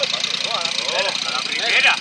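A mini motorbike engine starts and settles into a buzzy, revving idle close by, its pitch wavering throughout, while a voice talks over the running engine.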